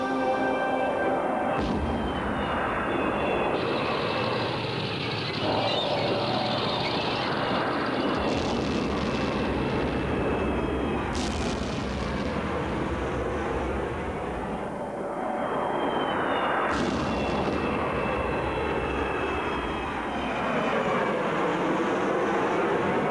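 A Harrier jet, the McDonnell Douglas aircraft flown by the United States Marines, roaring continuously and loudly with a shifting whine that rises and falls as it passes, without any voices.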